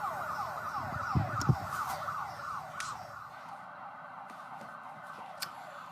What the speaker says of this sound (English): the sirens are going off right now because there is an injured horse on the racetrack